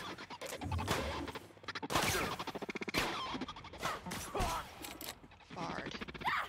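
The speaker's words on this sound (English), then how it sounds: "They're already shooting at me." Bursts of gunfire from a security patrol in The Outer Worlds, repeated sharp shots and crashes in uneven clusters, mixed with someone talking over the action.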